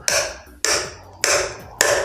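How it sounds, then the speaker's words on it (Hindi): A hammer taps a pump impeller down onto a motor shaft, four evenly spaced metallic knocks, each with a short ringing decay, close and alone. "और हथौड़े की सहायता से धीरे धीरे इस पर"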